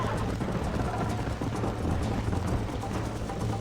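Horse hooves clip-clop steadily in Red Dead Redemption, a continuous rhythmic trotting over a low rumbling game soundscape, moderately loud and close.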